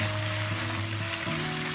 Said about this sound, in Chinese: 大火将鸡翅一面煎至金黄